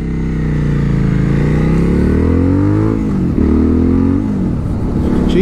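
Suzuki V-Strom 1050XT motorcycle with a GR Moto aftermarket exhaust, loud and close, idling then revved repeatedly, the engine note rising and falling through several throttle blips.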